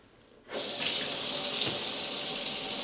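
A Delta touchless kitchen faucet switches on after a quiet moment and then runs steadily, a close, loud, even hiss of water streaming into a sink with no talking.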